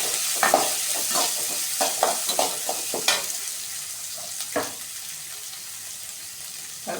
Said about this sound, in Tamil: கட் பண்ணி வச்ச ஒரு 3 பெரிய வெங்காயத்தை சேர்த்து நல்லா வதக்கணும்